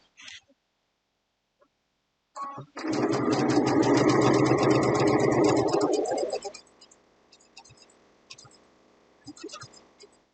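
A sewing machine runs in a steady, loud burst of about three seconds while stitching fabric appliqué, then slows and stops, followed by faint handling clicks.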